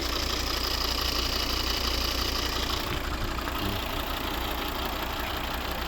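A 2010 Volvo XC60 2.4 D3 five-cylinder diesel engine idles steadily at close range, a constant low hum with a faint, even knocking pulse throughout.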